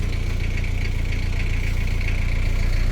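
A Mazda cab pickup truck's engine idles with a steady, continuous low rumble and a faint mechanical whine above it, close and unchanging throughout, with no voices.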